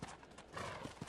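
Horse hooves clip-clop in the video game Red Dead Redemption Undead Nightmare, a quick run of soft hoof beats over faint background noise.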